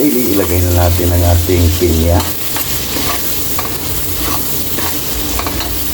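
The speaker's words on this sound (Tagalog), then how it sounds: "ilagay na natin ang ating pinya" Pineapple pieces tipped into a hot pan with aromatics and stirred, a loud close sizzle with scraping and stirring that drops slightly in level after a couple of seconds, with faint background voice.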